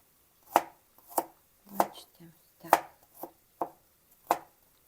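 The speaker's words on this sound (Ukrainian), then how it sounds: "Нарізаю чесник такими тоненькими смужками" A knife slices garlic into thin strips on a cutting board, about eight crisp, evenly spaced strikes, close and clear with no talking.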